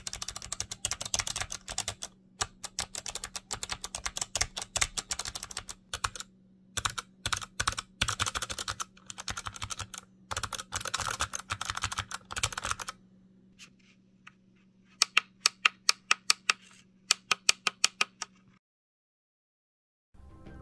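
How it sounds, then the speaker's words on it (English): Clicky blue switch buttons on a game controller pressed rapidly, a long barrage of sharp, crisp clicks like a mechanical keyboard over a steady low hum, then a slower set of separate, evenly spaced presses near the end. "here's a quick sound check with the default blues."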